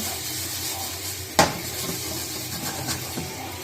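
Mushrooms sizzle in hot oil as they are turned, a steady broad hiss with one sharp utensil clack against the pan partway through.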